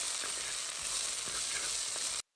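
Chilies and salt frying in a pan, a steady close sizzle and crackle with faint stirring taps, cutting off abruptly at the end.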